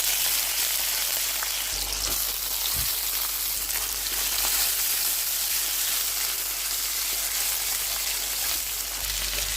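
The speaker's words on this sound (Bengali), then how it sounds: "এভাবে সব কটা ভেজে নিতে হবে। এবার উল্টে দিয়েছি, বড্ড জল বেরোয় চিকেন দিয়ে" Chicken pieces frying in a pan, giving a steady loud sizzle with crackling throughout, the meat releasing a lot of water, with a brief clunk partway through.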